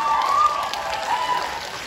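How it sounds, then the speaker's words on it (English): Applause from an audience at a year-end school concert welcomes the choir leader to the stage, a brief burst of clapping heard under a faint sustained tone. "A huge round of applause for Ms. Borodenko."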